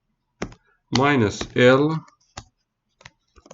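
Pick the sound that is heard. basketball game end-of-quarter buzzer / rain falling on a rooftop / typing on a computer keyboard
typing on a computer keyboard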